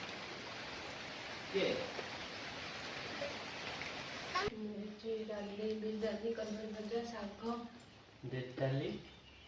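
Soft rain patters steadily at first. Then a person starts talking close by, and the rain drops into the background.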